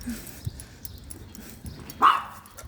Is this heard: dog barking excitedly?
yes